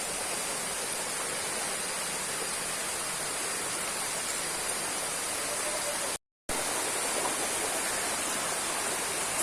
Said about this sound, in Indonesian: Ternyata ada selokan di sini. Airnya cukup deras dan bersih.